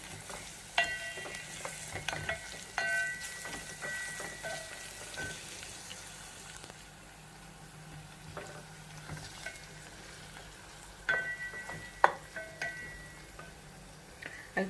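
Onions with garlic and green chili sizzle in a pan for a lamb pilau while a spoon stirs them, a soft frying hiss broken by scraping knocks and clinks, close but fairly quiet.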